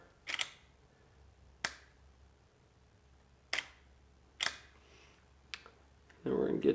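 Several sharp camera shutter clicks from a single-lens reflex camera while shooting house interiors, spaced irregularly with one longer-exposure pair, close and crisp over quiet room tone, ending in a brief burst of noise.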